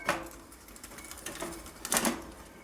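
A bicycle derailleur shifts onto the rear sprocket with a few sharp mechanical clicks and rattles, one near the start and a louder pair toward the end, over quiet background.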